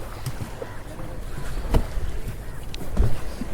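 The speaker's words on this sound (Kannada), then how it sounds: "ಬೋಟಿಂಗಲ್ಲಿ ಕೂತಿದ್ದೀವಿ." A boat ride on the sea at Malpe beach in Udupi, with steady wind and water noise, a few soft knocks and thumps, and people talking nearby.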